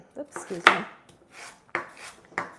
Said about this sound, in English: I'm just chopping up the burdock root